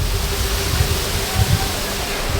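A waterfall in an American national park, a steady broadband rush of falling water filling the whole clip with no voices, loud and constant without any clear rhythm.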